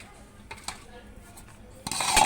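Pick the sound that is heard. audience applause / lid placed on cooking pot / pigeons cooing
lid placed on cooking pot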